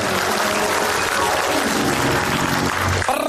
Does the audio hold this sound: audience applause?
yes